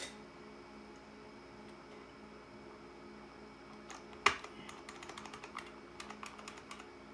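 Keys on a Silver Badge IBM Model M keyboard click one after another during a repair, quiet and uneven presses with one sharp louder snap, then a scattered run of clicks.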